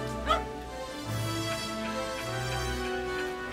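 Dog vocalizing in the action video game Shadow of Rome, with short bow-wow barks and whimpering yips rising over a steady in-game background hum.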